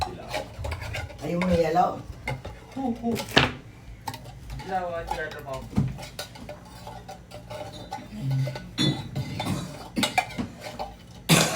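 Graham cake ingredients are stirred and mixed in a bowl: a spoon scrapes and clinks against the dish in uneven bursts, while people talk intermittently close by.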